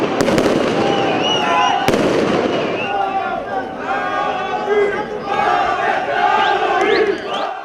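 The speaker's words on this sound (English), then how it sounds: "Chants of death to Arabs." Large street crowd in the coastal city of Bat Yam shouting and chanting together, a loud dense roar of many voices with sharp bursts and whistles, close and continuous throughout.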